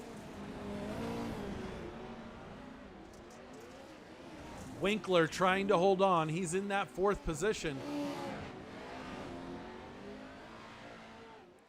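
Pro 4 off-road racing trucks roaring around a track, engines revving and droning from mid-distance while an announcer calls the race over them.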